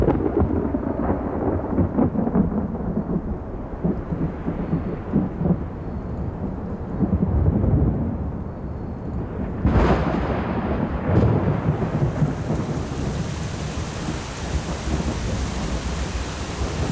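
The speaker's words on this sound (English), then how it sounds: "the rumbling sky alerts the nomadic groups that the rains are coming" Rolling thunder rumbles across a savanna sky at the start of the rainy season, with steady rain hissing throughout and two sharp, louder cracks near the middle.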